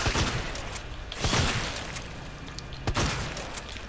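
Grenades explode in the Resident Evil 2 Remake video game: several sharp, loud blasts, the strongest near the start and again toward the end, over a dense, noisy game background with no speech.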